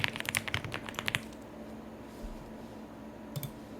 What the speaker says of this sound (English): And you can start typing.